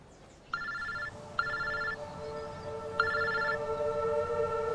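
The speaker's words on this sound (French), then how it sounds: "j'ai pris mon portable et j'ai appelé Emma" Ringback tones from an outgoing mobile phone call, three evenly spaced ring bursts under a faint steady tone, moderately quiet and with no talk.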